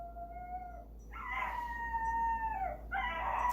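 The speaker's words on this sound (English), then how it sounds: "The dogs are out today." Dogs howl at home in long, wavering, tonal cries. One howl fades, then overlapping howls rise and hold, fairly loud and near, with no speech.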